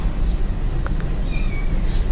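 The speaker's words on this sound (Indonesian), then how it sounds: "ada suara anak kucing sama anak-anak di depan." A kitten meows faintly in the background, giving a couple of short, thin cries over a steady hiss of room noise.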